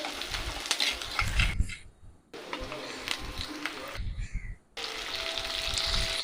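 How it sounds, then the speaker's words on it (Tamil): Tomato sautéing in a pan for a brinjal thokku hisses and crackles at close range, with the sizzle cutting out briefly twice before returning at a steady level. "அந்த தக்காளியை போட்டு நம்ம வதக்கி எடுத்துக்கலாம்"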